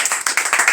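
A church congregation claps together in quick, rhythmic bursts during a worship service. The sharp, evenly spaced claps sound moderately loud and close for a brief moment.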